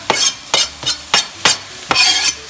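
Chopped onions and green pepper sizzle and spatter in a hot cast iron skillet, stirred in about five sharp, rhythmic scraping bursts close up, with steady frying hiss between strokes.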